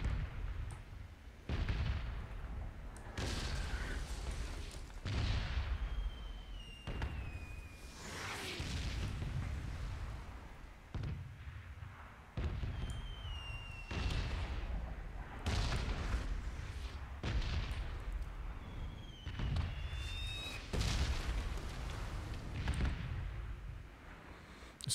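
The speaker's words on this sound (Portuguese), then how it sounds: "Mais explosão ali." Repeated explosions in the PUBG video game on a snowy map, with deep booms arriving every couple of seconds, each rumbling and decaying before the next, loud and close, with no talk.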